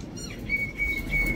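A common myna (bhat shalik) calls with short chirps and a thin sustained whistle, close and clear over a low background rumble, with no talking.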